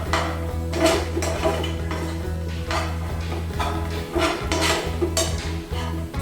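Cashews, almonds and pistachios are mixed into a sweet filling for bread rolls, with a steady run of spoon scrapes and clinks against the pan over a low hum.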